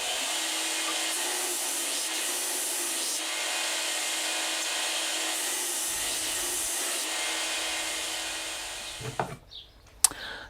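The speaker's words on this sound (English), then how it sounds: "get this one back onto the grinder, take the first bevel up with a 60 a little bit further" A belt grinder takes the first bevel up on a knife blade with 60 grit, a steady, fairly quiet abrasive whir lasting about nine seconds before it winds down into a few clunks.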